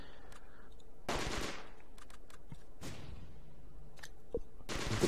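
Bursts of machine gun fire from an MG team in a WWII video game, several separate rattling volleys spaced a second or two apart, mid-distance, with no voices.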